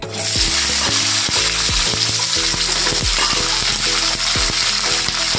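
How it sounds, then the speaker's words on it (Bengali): Drumstick stalks frying in the same oil used for potatoes for a Bengali sojne danta posto chorchori, with a loud, dense crackling sizzle and repeated rhythmic scrapes of a spatula turning them, no voices. "ওই তেলেই আমি ডাঁটাটা একটু নেড়ে নিচ্ছি"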